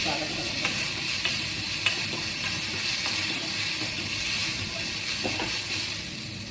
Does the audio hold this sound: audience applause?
no